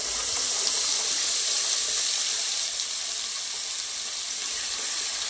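Ground spice paste for amti sautéing in a pan over low heat, a steady soft sizzle and hiss that runs evenly throughout with no voices.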